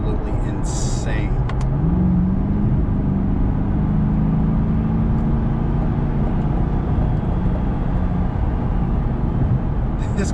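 A 2021 Chevrolet Corvette with a dual-clutch automatic accelerates under a steady engine drone that climbs in pitch through a shift, heard from inside the cabin with constant road roar and no talking.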